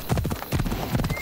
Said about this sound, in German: Pferd.